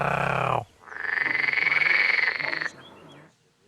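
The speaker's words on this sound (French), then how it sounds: "le chercheur s'intéresse aux grenouilles vertes" Green frogs croak in a reedbed of the Seine estuary, a loud, dense chorus of rapid pulsing calls that breaks off briefly, swells again for nearly two seconds, then fades to faint background.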